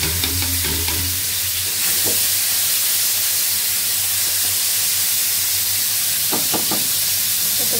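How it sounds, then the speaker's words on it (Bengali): Pointed gourd (potol) frying in a pan, a loud continuous sizzle and hiss with occasional stirring scrapes and clinks, no talking. "ভাজিটা করা হয়ে গেছে, আমি এখন ভাজিটা নামিয়ে দিচ্ছি। তো পটল ভাজিটা হয়ে গেছে"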